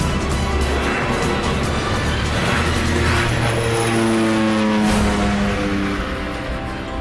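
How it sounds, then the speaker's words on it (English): A propeller airplane takes off from the airport at Barra, its engine a loud, close, steady droning roar with pulsing tones that holds for several seconds without voices. "All aboard, clear for takeoff. And soon the plane is back in the air."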